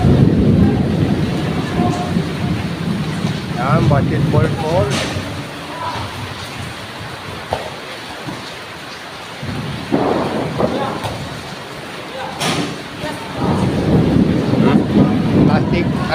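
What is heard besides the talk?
heavy rain and thunder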